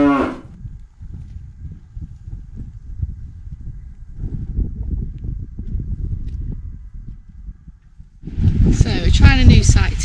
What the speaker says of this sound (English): it wouldn't be Scotland without having the Highland cows